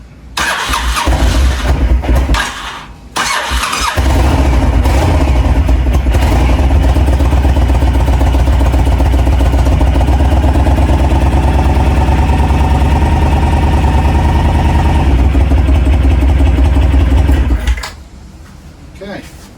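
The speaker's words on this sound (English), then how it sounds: "let's just start it up now and see where we get to" A Honda VTX 1300 motorcycle engine, freshly serviced with new oil, cranks, catches briefly, then starts on a second try and settles into a loud, steady, close idle that runs about fifteen seconds before being shut off.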